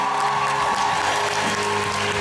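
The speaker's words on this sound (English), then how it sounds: "Thank you for your applause and your laughter." A live audience claps steadily and continuously, a dense, even wash of applause heard close with no pauses.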